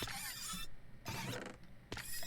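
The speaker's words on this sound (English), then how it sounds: "that awful sound you're hearing is guardians dying" Guardians dying in Minecraft give harsh, creaking, grinding cries in three bursts separated by short gaps, heard alone and fairly loud.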